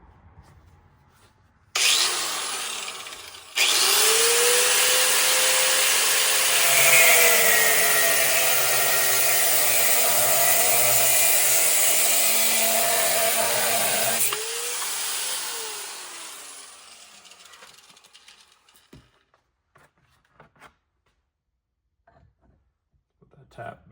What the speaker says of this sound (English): I'm going to cut it a little shorter because I said I wanted an inch shorter roughly.